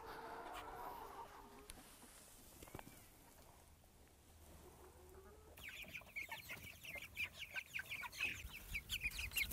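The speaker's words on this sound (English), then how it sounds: "They're all sitting on their roosts, and I think they're happy hens." Broiler hens on their roosts cluck softly and steadily, and partway through sharper chirping calls join in and grow louder toward the end.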